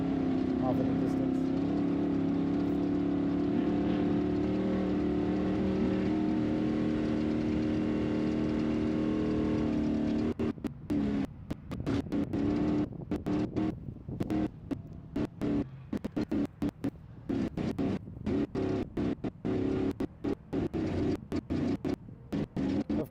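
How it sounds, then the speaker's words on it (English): Ultra4 off-road race cars at the Laughlin Desert Classic nationals drone steadily from far away for about ten seconds. The sound then turns choppy and broken, cut up by bursts of nearer noise. "Probably hear them on my mic right now too, off in the distance."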